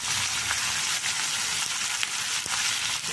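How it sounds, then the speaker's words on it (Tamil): Vegetables such as drumstick and brinjal sautéing in hot oil for sambar, giving a bright, continuous sizzle up close with faint scraping as they are stirred, no voices. "நல்லா எண்ணெயிலே வதங்கிட்டேன்"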